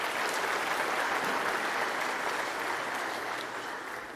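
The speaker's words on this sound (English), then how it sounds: "Let's give him a round of applause." A room full of people applauding at an introduction event, thick continuous clapping throughout that eases slightly in volume toward the end, with no talking over it.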